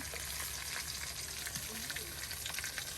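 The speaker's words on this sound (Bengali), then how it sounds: "এই যে একদম পেঁয়াজটা কিন্তু দেখুন মসমসে বেজে না হইলো" Onions crisping in hot oil in a pan during home cooking of an Eid beef curry, giving a steady close sizzle and crackle that runs through the whole moment without a break.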